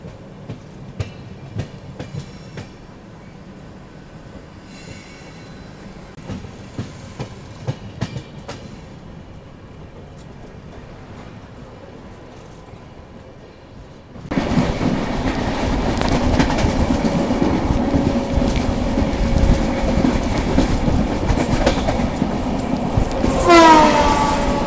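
An Indian Railways WDP 4D diesel locomotive hauls a Rajdhani Express: quieter rail clatter with sharp clicks first, then a loud, sustained rumble and rattle of the running train with a horn-like tone near the end.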